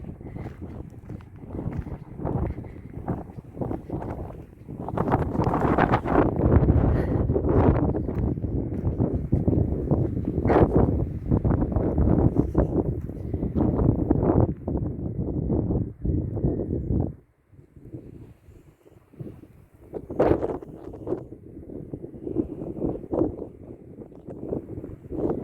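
Strong coastal wind buffets the microphone at Gruissan, a continuous rough roar with gusty surges that drops off briefly before building again.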